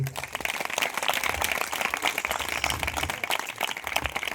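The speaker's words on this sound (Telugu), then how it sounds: "సంతోషంగా ఉన్నవారు సరి గట్టిగా చప్పట్లు కొట్టి" Congregation at a church anniversary service clapping in a dense, continuous round of applause, many hands close and steady at moderate volume, with faint voices mixed underneath.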